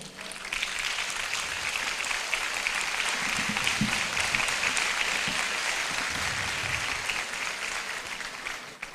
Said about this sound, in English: My lords, may you rise so that we give you a round of applause.